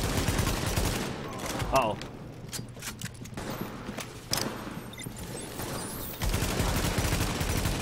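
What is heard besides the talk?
gunfire in the video game The Division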